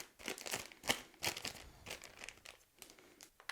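A plastic piping bag filled with melted chocolate is shaken close up, giving a run of quick crinkly rustles and crackles in uneven bursts that thin out toward the end; no talking.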